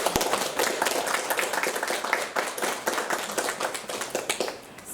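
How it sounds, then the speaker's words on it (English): Dense, lively applause from an audience at an electorate art competition, many hands clapping in rapid overlapping bursts that hold steady before tapering off near the end. "thank you, big round of applause."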